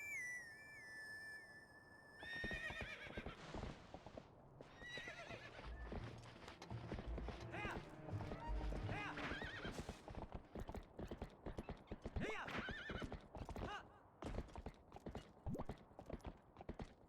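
A horse in the Twilight Princess video game, first a high whinny, then a busy run of hoof clip-clops mixed with other game noises. It sounds close, with the hoofbeats continuing to the end.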